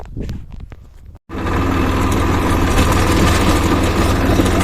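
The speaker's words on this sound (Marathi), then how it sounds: "आपण ट्रॅक्टर स्टार्ट केलेला आहे" After a few faint knocks and a brief pause, a tractor engine roars to life and keeps running at a loud, steady idle.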